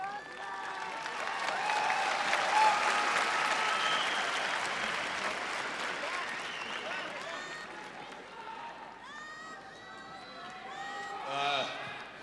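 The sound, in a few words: arena crowd applause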